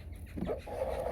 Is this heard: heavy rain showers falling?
no